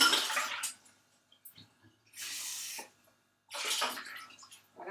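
Water from overnight-soaked almonds is poured off in three separate splashing bursts with quiet gaps between them, close by and fairly faint.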